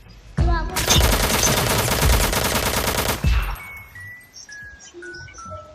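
A video game gun fires a rapid automatic burst lasting about three seconds, loud and dense, then stops abruptly and leaves faint tinkling and quiet electronic tones.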